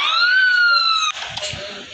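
A police car siren in the video game GTA 5 wails loudly in a steady rising tone for about a second, then cuts to a rougher, noisier blare.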